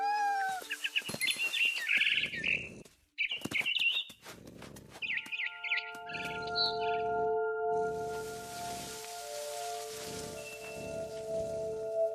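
Bird chirps and tweets from the video game What Remains of Edith Finch, bright repeated calls over a steady rain-like wash and soft thumps, fairly close and continuous throughout.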